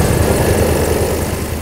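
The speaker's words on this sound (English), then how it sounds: "Let's follow that helicopter!" A cartoon helicopter flies overhead with a steady, loud droning engine and the low rhythmic chop of its rotor throughout, with no voices.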